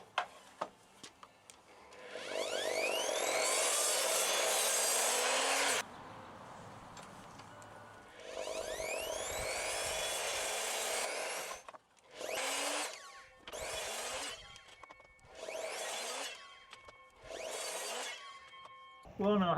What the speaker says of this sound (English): let's go back to the saw, set up a stop and cut all these.